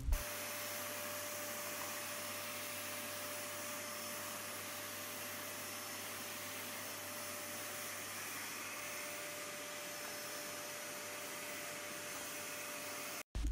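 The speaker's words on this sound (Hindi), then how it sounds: "मैं आज वैक्यूम कर लूँ पूरे कमरे को" A vacuum cleaner runs while cleaning a room laid with a red carpet, giving a steady, loud, unbroken whirring drone that holds throughout and cuts off abruptly at the end.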